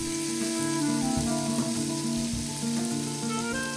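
Bacon and sausages frying in a pan give a steady, close, dense sizzle with crackling and spattering that never lets up.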